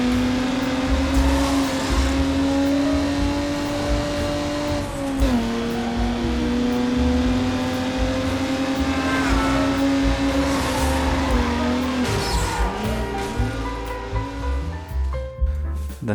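Racing video game car engine revving and accelerating steadily, with a sustained engine tone that shifts pitch through gear changes, loud and continuous with occasional tire squeal, no talking.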